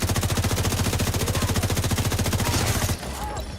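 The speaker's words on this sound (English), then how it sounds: "Will you please stop shooting me?" Rapid automatic gunfire in the video game The Division, set in Brooklyn, rattles steadily and loudly for about three seconds in a dense, even burst before cutting off to quieter ambience.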